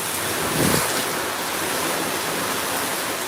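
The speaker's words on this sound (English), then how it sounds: "You can hear that rain, man." Heavy rain and strong wind make a constant rushing hiss under shelter. A brief gust or thump swells near the start, then the downpour continues evenly.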